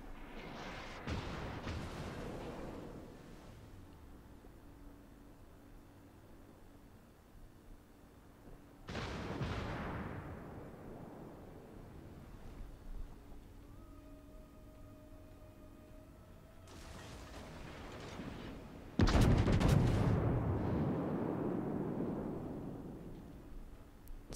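Heavy naval gunfire and shell impacts in World of Warships, with a US battleship Arizona under fire from the whole enemy team: three big booming salvos with long rumbling decays, spaced several seconds apart, loud and close.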